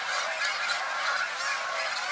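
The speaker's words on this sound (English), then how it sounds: "Snow geese, sandhill cranes, Canada geese, all kinds of ducks. Quite the commotion." A loud, dense chorus of snow geese and Canada geese honking at a wildlife refuge at sunset on a calm evening, overlapping calls blending into a steady, continuous commotion with no pauses.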